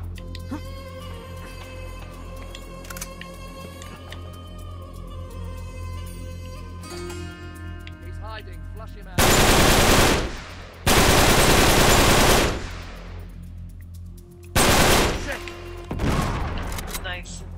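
Automatic gunfire in Uncharted: Drake's Deception comes in loud, sustained bursts from close by, interrupted by short pauses, with music and ambient game sound underneath and voices in the earlier stretch.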